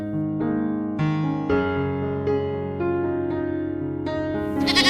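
Several goats bleat loudly and close in a 3D animated children's story, overlapping long wavering cries following one after another with barely a pause, no talk over them.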